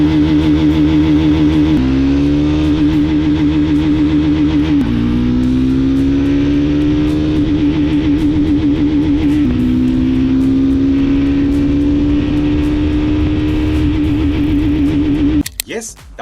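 A Triumph Scrambler motorcycle accelerating hard toward top speed, its loud engine note climbing steadily through gear changes before cutting off near the end, with speech over it.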